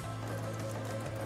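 A sewing machine with its presser foot down runs a straight seam. The motor gives a brief, steady, close hum of stitching with no pauses.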